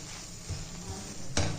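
Chopped spinach being stirred and sautéed with spices in a pan, a steady soft sizzle with scraping and a spoon clinking against the metal near the end, close and moderately loud.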